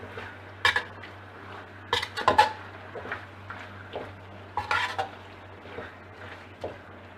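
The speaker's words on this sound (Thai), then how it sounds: "ใส่ใบมะกรูดค่ะ ผัดให้หอมนิดนึงนะคะ" Pork belly with shrimp paste and kaffir lime leaves being stir-fried, with scattered clinks and scrapes of a utensil against the pan in short bursts, fairly quiet and close.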